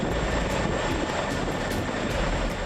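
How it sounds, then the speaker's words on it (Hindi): Indian Air Force fighter jets roar overhead during the 2023 Air Force Day air show rehearsal at Prayagraj, a loud, continuous engine rumble with no pause. "फाइटर जेट्स की गर्जना सुनकर दुश्मन थर्रा रहा है।"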